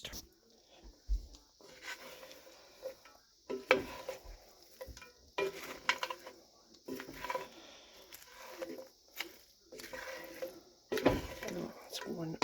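A spoon stirring leftover ribs and smoked bacon stew in a full pan, producing repeated scraping and sloshing bursts at close range, with quiet pauses between strokes.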